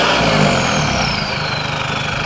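An engine with a CRL Performance exhaust and no muffler roars loud and continuous at close range, a steady raspy drone with a slowly falling whine and no voices.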